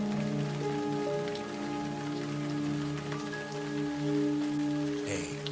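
Steady rain falling on surfaces in the Gemini Rue video game, a continuous even patter with a low ambient hum beneath, no voices.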